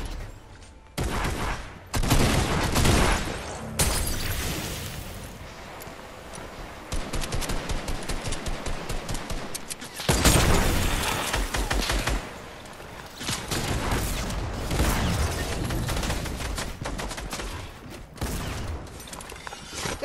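Shotgun blasts and rapid gunfire in the battle royale game Fortnite, repeated loud bursts and clusters of shots with brief pauses, mixed with mechanical clicks and building sounds throughout.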